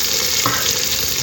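Chopped green chilli and onion sauté in a hot pan, giving a dense, continuous sizzle and crackle with a faint stir partway through, and no voices.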